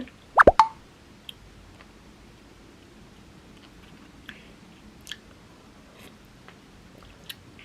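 Boiled frog with eggs inside, cooked in a soup with mango, is bitten with a few sharp close plops, then quiet, faint chewing with occasional soft clicks and no talk.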